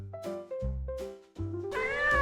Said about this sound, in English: Hamster Chef shares the cake with a yellow and white stray kitten